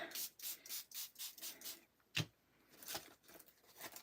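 A rapid series of short, breathy ink spray bursts, close and fairly quiet, with a rubbing scrape in the middle before more spritzes follow.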